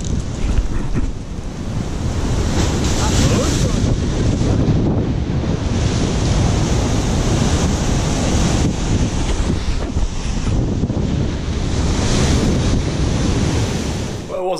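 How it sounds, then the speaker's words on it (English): Rough ocean surf breaking near a rocky shore, a continuous loud wash of waves mixed with heavy wind buffeting the microphone, swelling and easing across the whole stretch. "there's a few sketchy waves that come through"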